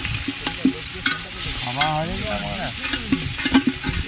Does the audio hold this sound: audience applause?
no